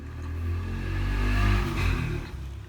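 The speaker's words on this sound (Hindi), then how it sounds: "इतनी तेजी से बाइक निकालते हैं" A motorbike speeds past outside, its engine swelling to a loud roar around the middle and then fading away, with no talk over it.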